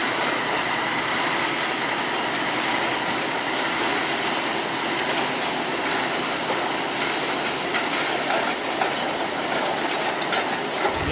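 A long train of sugar cane lorries hauled by a locomotive rolls past a level crossing, a loud continuous rumble with clattering wheels and faint metallic squeals, steady throughout.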